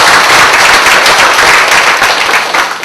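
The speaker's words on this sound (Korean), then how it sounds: "하나님께 감사의 박수 한번 올리겠습니다." Congregation at a Korean church class clapping together in thanks to God, a loud, dense burst of steady applause that fills the room and tapers slightly at the end.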